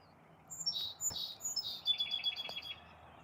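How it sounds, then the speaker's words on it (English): A small bird perched on a branch gives bright, high chirps, first a few spaced single notes and then a quick rapid series, close and clear against a quiet outdoor background with one or two soft knocks. "tell me what type of bird this is"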